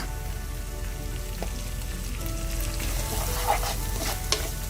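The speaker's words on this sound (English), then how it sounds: "Keep stirring till the tomatoes are cooked down." Green chilies and sliced tomatoes sizzle in a cooking paste for a chicken biryani, with a steady close frying hiss and a few soft spoon scrapes as the mixture is stirred.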